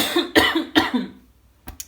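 A woman coughs several times in quick succession, with two heavy close coughs followed by a couple of short fainter ones, with no speech.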